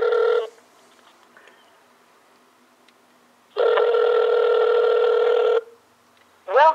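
A Moto X smartphone on speakerphone with volume all the way up rings out for a call, one loud ring lasting about two seconds after a short earlier burst, then another ring starting at the end.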